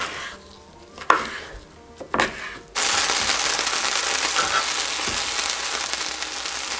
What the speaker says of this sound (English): So I'm quickly just searing both sides of the meat, and then I'm throwing them in a pan off to the side.